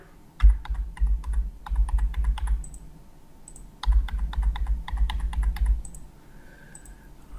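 Keys clatter on a computer keyboard as a username and password are typed, in two quick bursts of rapid clicking separated by a brief pause, fairly close.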